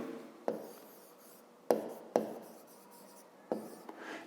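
Pen writing out a math solution on paper: soft scratchy strokes broken by a few sharp taps, close and quiet, with pauses between marks and no voices.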